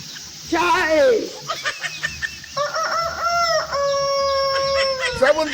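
A human voice imitates a crowing rooster, giving a rising and falling crow followed by a longer drawn-out cock-a-doodle call, close and loud against a faint background.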